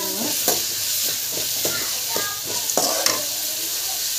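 Ingredients for a dry fish curry sauté in a hot pan, giving a continuous sizzle with repeated scraping strokes of a spoon at a steady rhythm.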